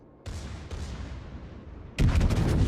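Booming salvo from the main guns of the battleship Großer Kurfürst in a naval combat game: a sharp blast with a long rumbling tail, then a second, louder burst of firing near the end.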